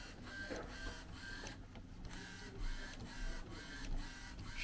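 A part-time DTF printer prints steadily nearby, its carriage passing back and forth in a regular rhythm of swishing, whirring strokes over a constant mechanical hum.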